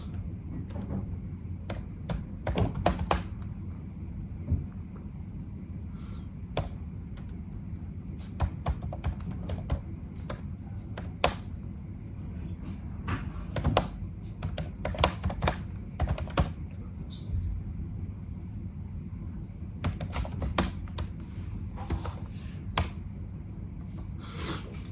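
Steady typing on a computer keyboard while coding HTML, a continuous stream of close, crisp key clicks with occasional louder taps, no talk.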